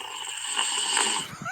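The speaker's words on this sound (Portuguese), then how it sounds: "me mandou um áudio aí da minha filha roncando" A toddler snoring, played back from a phone recording, gives steady raspy breathing noise that runs continuously through the short stretch at moderate level, with no talking.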